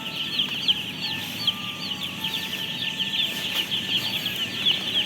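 A dense chorus of many young broiler chicks peeping continuously, high and shrill, with a steady hum of a poultry house in the background.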